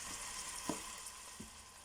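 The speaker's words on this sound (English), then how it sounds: "So in the pot we have 2 onions, 6 chilies, and some curry leaves frying." Steady sizzling of onions, chilies and curry leaves frying in a pot, a constant hiss with a couple of soft pops or stirs.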